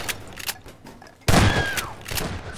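Gunfire from a Garry's Mod Prophunters match: a loud burst of shots that kicks in abruptly halfway through and rumbles on, with quieter game noise before it.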